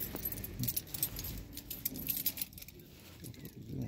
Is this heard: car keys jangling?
yes